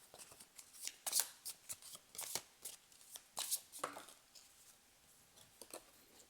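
Tarot cards being shuffled and drawn by hand, a quick series of soft papery riffles, flicks and slaps close by, with no voices.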